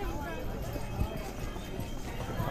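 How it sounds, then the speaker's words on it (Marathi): Hooves of a small pony clip-clop along a crowded pilgrim path to the Vaishno Devi shrine, steady close footfalls under the murmur and chatter of many people. "आपला घोडा लहान आहे."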